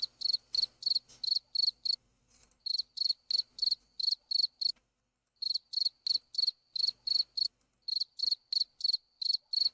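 Crickets chirp in a steady, rapid rhythm of short bright trills, loud and close, with a brief pause midway before the chirping resumes; no voices are heard.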